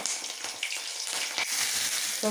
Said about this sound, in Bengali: কড়াইয়ের তেলটা গরম হয়ে গেছে এখানে আমি একটু কালি জিরা পুরন দিয়ে দিলাম দুইটা শুকনো লঙ্কা পুরন দিয়ে দিলাম